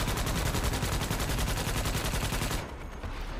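Rapid, steady weapon fire from the video game Starship Troopers: Extermination rattles continuously for most of the stretch before easing off near the end.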